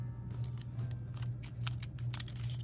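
Scissors snip through small paper pieces for a planner, a few quiet, crisp cuts over a steady low hum in a quiet room.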